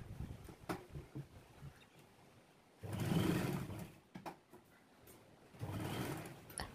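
A sewing machine stitches a strap onto a kitchen apron in two sustained bursts of whirring, separated by quiet pauses and a few soft clicks and handling knocks, close and fairly faint.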